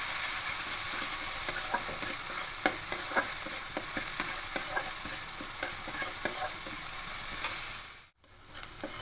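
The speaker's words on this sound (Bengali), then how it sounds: "হলুদ গুঁড়ো দেবো। খুব ভালো করে মিশিয়ে নেব।" Spices stirred into pieces of chara pona fish frying in oil with salt and turmeric: a steady sizzle under repeated sharp scrapes and taps of a spatula against the pan, with a brief near-silence near the end.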